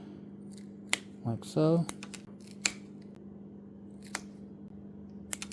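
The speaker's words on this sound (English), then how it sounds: "heavy duty toothpick, and we're going to cut it" A heavy-duty wooden toothpick is snipped close up with a couple of short, crisp crunching cuts, followed by faint clicks and a brief spoken remark in a quiet room with a steady low hum.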